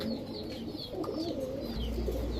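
Giribaz high-flyer pigeons coo softly in a series of low, rolling calls with faint higher chirps, close by over a steady background hum.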